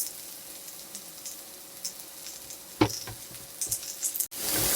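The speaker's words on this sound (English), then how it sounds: "Now that I got my oil rolling, I'm gonna go ahead and put my scallions up in there" Chopped scallions hitting hot grapeseed oil on medium-high heat, a low steady sizzle broken by a sharp crackle and a few louder pops, then a burst of brighter hissing near the end.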